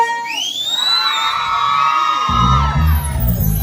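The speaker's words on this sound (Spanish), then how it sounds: "A ver, chicas, un grito fuerte." A crowd of women at a live huayno music concert in Santiago de Chile shrieks and whoops loudly together in one long, high-pitched group shout, ending with a burst of heavier noise.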